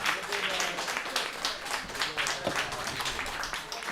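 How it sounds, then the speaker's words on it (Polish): Audience claps for guests at a demoscene party event, a moderate patter of hands with scattered louder claps, fairly distant and mixed with room murmur. "Big applause, Brian Jobling and Adam Gilmore."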